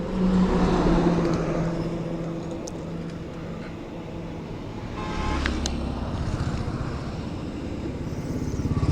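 A motorcycle engine runs steadily nearby on the jungle road between Dharan and Itahari, a low continuous rumble with wind noise and slight rises in revving.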